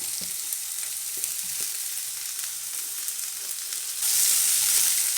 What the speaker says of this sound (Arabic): أنزل الأول البصل. أنا مش هحمر البصل، بس هدبله، بس خليه يدبل بس مش أكتر.